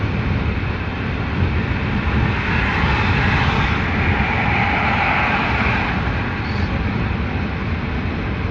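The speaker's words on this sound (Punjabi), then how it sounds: "ਮੈਂ ਕਿਹਾ ਵੀ ਆ ਬਿਲਡਿੰਗ ਤੋਂ ਜਹਾਜ਼ ਲੰਘਦਾ" A jet airplane passes over a building along King Fahd Road in Riyadh, giving a loud, steady, broadband roar that holds for several seconds without letting up.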